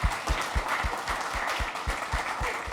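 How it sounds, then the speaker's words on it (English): Applause from a developer conference audience, many hands clapping steadily and fairly loudly, a dense continuous patter without voices. "Now, give a big round of applause for her"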